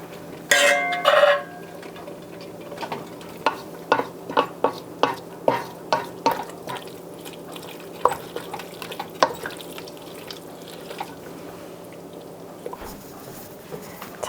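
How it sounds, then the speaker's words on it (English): Browned meat tipped into a cooking pot and stirred in a cozy cottage kitchen. A clattering drop opens it, then a long series of spoon scrapes and knocks against the pot follows at a loose, regular pace over a faint sizzle. "I'm gonna add the meat in that has been browning."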